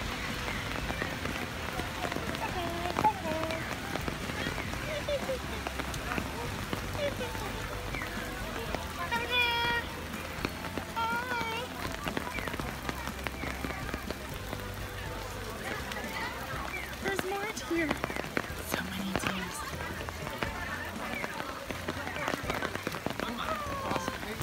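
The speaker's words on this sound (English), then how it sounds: "It's unbelievably rainy. It's like horribly rainy." Heavy rain falls steadily at Nara deer park, a constant close patter and hiss on surfaces, while people talk intermittently over it.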